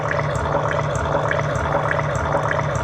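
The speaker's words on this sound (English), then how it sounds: "there I have a running river" Running river water heard as a steady, continuous rushing and bubbling wash at moderate level, with no pauses or voices.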